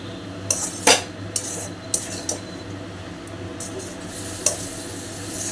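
Food is stirred in a cooking pot with a utensil, a handful of scattered metallic clinks and scrapes over a low, steady background hum.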